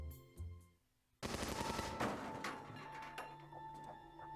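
An M134 minigun in a video game opens up with a sudden dense, rattling roar of rapid fire that continues steadily to the end, following a brief quieter stretch.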